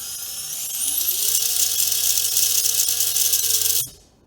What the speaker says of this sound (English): you start to hear a little of that rattle from the metal gears